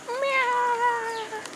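A cat meows once, a clear drawn-out tonal call that wavers in pitch, close and alone.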